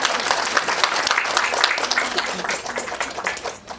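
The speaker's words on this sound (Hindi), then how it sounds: "ताली बजाओ अपने लिए।" Listeners at a talk in a Hare Krishna temple in Potomac, Maryland clap together, a busy, close, moderately loud patter of hands that tapers off near the end.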